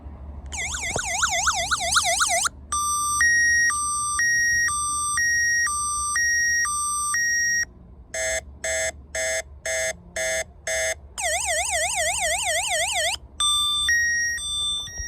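A 1994 Toyota Supra's aftermarket car alarm runs through its siren cycle: rapid warbling wails, steady two-tone alternations and fast chirping bursts, each pattern switching abruptly to the next, loud and piercing throughout.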